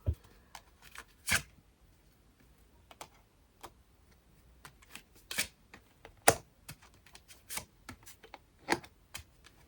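Oracle advice cards being shuffled and drawn, a sparse series of crisp, close slaps and flicks of card stock with quiet gaps between, and no talking.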